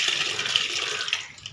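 Water poured steadily into a cooking pot of tamarind broth for a Tamil fish curry, a close, continuous splashing stream that tapers off toward the end, with no talk.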